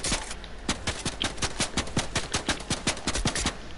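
Rapid gunshots from a video game ring out in a steady string of about twenty sharp cracks, loud and close, with no talk.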